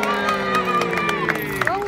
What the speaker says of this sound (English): Big cheer, ladies and gentlemen.